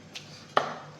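Two knife chops on fish being cut into large pieces, a light tap followed by a louder, sharper thud of the blade hitting the board, close and isolated with no talk.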